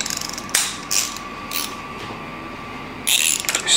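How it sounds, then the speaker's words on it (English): Large torque wrench ratcheting on Ducati engine bolts while pistons are fitted on a land speed motorcycle, with close, loud metallic ratchet clicks in bursts and a clear click and pause between strokes, no talk. "so use the bigger torque wrench for that."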